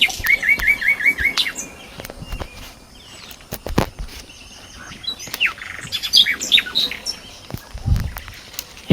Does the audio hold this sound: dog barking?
no